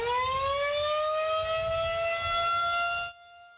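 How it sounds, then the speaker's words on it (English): A loud wailing outdoor tornado warning siren, sounding for a statewide tornado drill, holds a steady, slowly rising tone for about three seconds, then cuts off abruptly, leaving near silence. "The sirens went off at 1:45 this afternoon."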